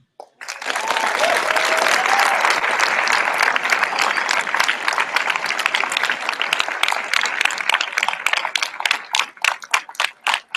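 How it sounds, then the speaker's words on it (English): Audience applause for keynote speakers at an immigrant youth empowerment conference opening ceremony at UCLA, starting abruptly into a full roar of clapping that stays dense, then thins into scattered individual claps toward the end. "Let's give them another round of applause."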